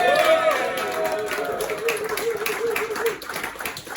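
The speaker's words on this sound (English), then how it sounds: "stamp your feet, clap your hands" An audience at a summer stand-up comedy night claps in a steady, fairly loud patter, with voices and cheering mixed in over the rhythm throughout.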